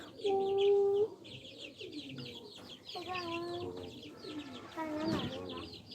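Small chicks cheep and peep nearby, several high calls in short bursts, with soft clucking mixed in and a quiet background.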